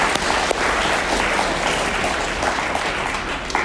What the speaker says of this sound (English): So let's give all of you another warm round of applause.